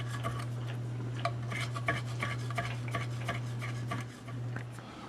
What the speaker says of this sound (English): So start with peeling and grating your ginger.